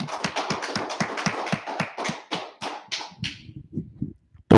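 Audience members at an evening history class clap in a quick burst of sharp, rhythmic claps that thin out and fade to a few scattered ones before stopping.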